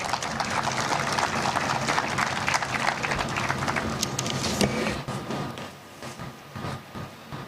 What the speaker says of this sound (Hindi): तालियां बजाएं भाई, हमारे लिए आए हैं।